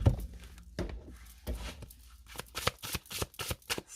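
Oracle cards are shuffled by hand, with a series of soft, close riffling flutters and light taps coming in quick irregular bursts.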